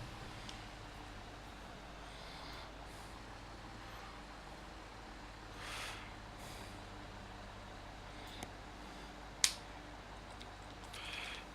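A Class 172 diesel train reverses over points on the North London and Gospel Oak–Barking line, with a low, steady rumble, faint bursts of air hiss and one sharp metallic clack near the end.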